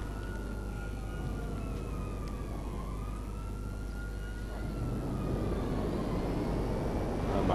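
Police car sirens wail in GTA V Online, a rising and falling tone sweeping over a steady engine roar and background rush, growing slightly louder toward the end, with no one talking.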